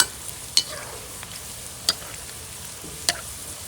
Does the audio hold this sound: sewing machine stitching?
no